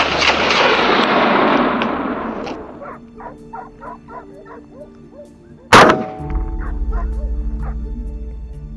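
A single loud, sharp gunshot cracks out at a feral hog during a hunt in Brazil's Pantanal, preceded by hunting dogs barking and yipping and followed by a lingering low rumble and whining dogs.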